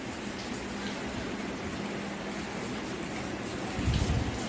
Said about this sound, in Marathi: पावसाचा जोर जरा कमी झालाय